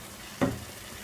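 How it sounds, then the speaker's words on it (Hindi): A short sizzle as spices and two tablespoons of yogurt fry in ghee while making bhindi pyaz sabzi at home, one brief burst of frying over a quiet kitchen background. "अब अच्छे से भुनेंगे सारे मसाले को"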